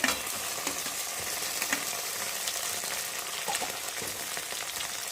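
Spices such as cumin paste, ginger paste and tomato fry for a rohu fish curry, giving a dense, continuous sizzle in hot oil, loud and close with no talking.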